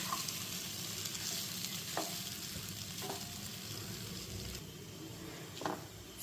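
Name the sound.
sabudana khichdi cooking on low flame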